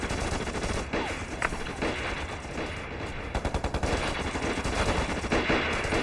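Gunfire from a war film battle scene with a sniper and a machine gunner, loud rapid bursts and a dense clatter of shots running continuously with a few sharper single cracks.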